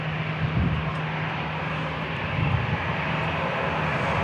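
A Southwest Airlines jet departs San Diego International Airport for Sacramento. A dense, steady engine roar fills the air with a low droning hum, loud and continuous with slight swells.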